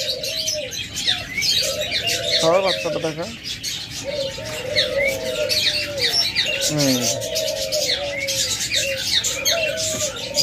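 A pair of white ghughu doves with their chick, soft repeated coos and chirps among other cage birds, with someone speaking over them.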